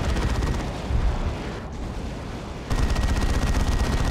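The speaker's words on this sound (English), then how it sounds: "Been a while since I've seen an assault cannon barrage" Assault cannon barrage in the Dawn of War 2: Retribution strategy game, a dense, continuous roar of rapid gunfire and blasts at high volume throughout, with a brief dip midway before the onslaught resumes.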